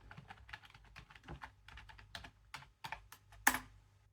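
A computer keyboard clatters in quick irregular bursts of keystrokes, close and clear, ending in a sharper click while searching a knitting and crochet website.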